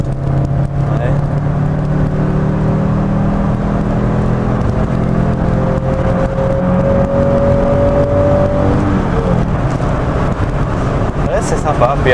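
An Audi 80 five-cylinder engine accelerating, a sustained whirring drone with rising tones that climbs steadily, then drops and levels off, as people talk over it.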